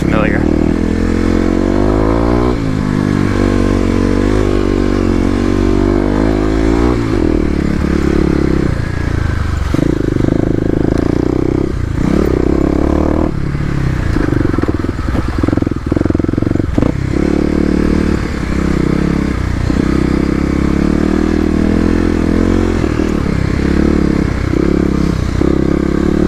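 Stage 1 Kawasaki KLX250 dirt bike climbing off-road OHV trails, its single-cylinder engine loud and close, revving and shifting with rises and dips in pitch, gravel clatter and wind throughout, with a rider's voice occasionally over it.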